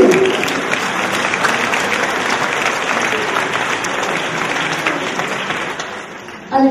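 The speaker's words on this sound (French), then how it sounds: "Je vous demande encore une nouvelle fois si vous pouvez les applaudir" A large crowd at the Miss Orléanais 2014 beauty pageant applauds in a sustained, loud wash of clapping that holds steady before cutting off abruptly at the end.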